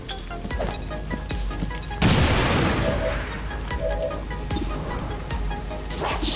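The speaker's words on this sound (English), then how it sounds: "Throwing grenade!" A grenade blast in the video game XCOM 2 hits with a loud broadband boom about two seconds in, then a rumbling tail under continuous battle noise and gunfire-like pops.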